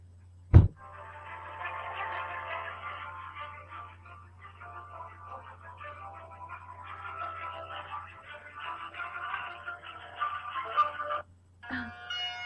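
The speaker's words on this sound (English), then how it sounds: "my current ringtone" A tonal electronic ringtone melody plays steadily for about ten seconds over a low hum, after a sharp click, ending with a brief burst of noise.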